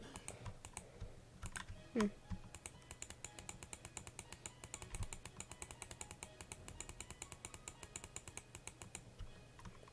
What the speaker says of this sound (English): I think that was clicking.